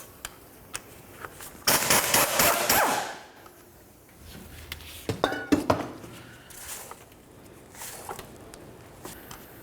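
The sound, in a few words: removing drive shaft mounting bolts at the rear differential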